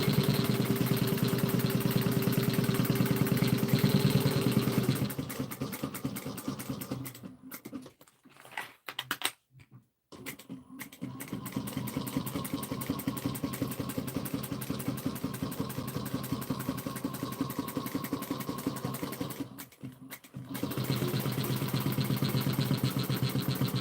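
Sewing machine running in steady bursts while top stitching a leather or suede bag at an eighth of an inch, with back stitches; a constant mechanical whir stops briefly twice, then resumes, close and fairly loud.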